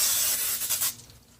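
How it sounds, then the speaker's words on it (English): Cooking spray is sprayed onto a baking pan for brownies, giving a short, close hiss with a few quick bursts that fade within about a second. "the first step we have here is to use cooking spray. You can use any you like. I'm using this. And we just spray her down."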